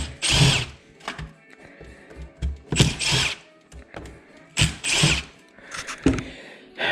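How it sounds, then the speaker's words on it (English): An impact driver loosens the bolts on a Kawasaki carburetor bowl in repeated short, loud hammering bursts separated by pauses, close up, with a few clicks and handling noises between runs. "I'm using an impact because I know that these bolts are, not too tight"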